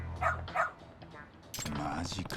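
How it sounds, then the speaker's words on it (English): A dog barking in the video game Lost Judgment, two sharp barks followed by quieter sounds and a burst of louder in-game noise. "So you're Amasawa's dog, huh?"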